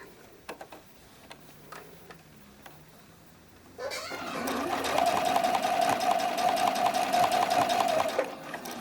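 A sewing machine stitches the cradles of an iris bralette: a few quiet ticks first, then from about four seconds in a steady, loud mechanical whir with a rapid rhythmic hum running until near the end.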